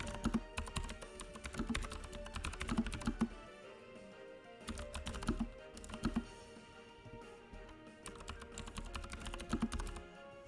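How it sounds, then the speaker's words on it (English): Keys clatter on a computer keyboard in uneven bursts, with quieter pauses between runs of strokes, close and fairly soft, with no one talking. "I need you to move over there for a second so I can use my keyboard."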